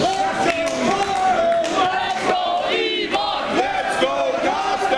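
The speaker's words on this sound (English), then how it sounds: "And this crowd split again" Wrestling crowd at a wXw pro wrestling match roaring and chanting loudly, split in support between two wrestlers; dense, continuous crowd noise with rising and falling shouts, close and full throughout.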